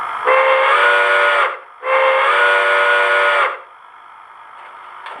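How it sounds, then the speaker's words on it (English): A model steam whistle from a Tsunami 2 DCC sound decoder in an IHC 2-10-2 locomotive sounds twice: two long, loud, steady blasts separated by a short pause, with a low hiss continuing after. "Go ahead and show you the whistle."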